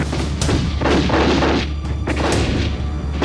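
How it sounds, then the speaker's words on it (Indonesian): Heavy booming explosions rumble continuously, with several sharp impacts standing out over a dense, loud roar. "Ledakan pun menggetarkan seluruh penjuru kota."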